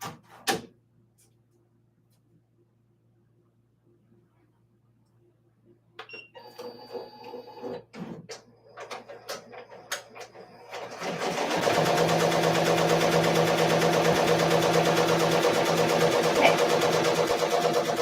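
A Ricoma MT 1501 embroidery machine starts up after some clicks and clatter, then settles into a loud, steady, rapid stitching whir that runs continuously to the end.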